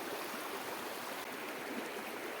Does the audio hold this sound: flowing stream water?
yes